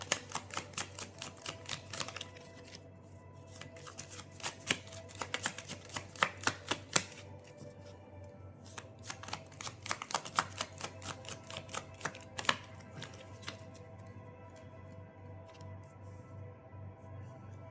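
A tarot deck is shuffled in quick, crisp bursts of card riffling and tapping, close and clear, with brief pauses between rounds and no talk over it.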